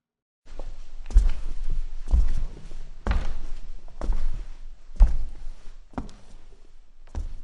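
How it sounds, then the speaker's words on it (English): Heavy, slow footsteps land overhead in an irregular thudding sequence of about eight dull impacts, muffled and resonant as if through a floor or ceiling, with a faint rumble between steps and no voices. "we heard the man's heavy footsteps above"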